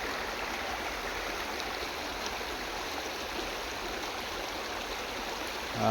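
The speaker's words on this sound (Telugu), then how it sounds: "ఎట్లా పోతుంది వాగు కిందికి" A steady, unbroken rush of the Jampanna forest stream in the Eturnagaram sanctuary, running high after rains and flowing downstream toward the Godavari, fills the whole stretch at close range with no voices.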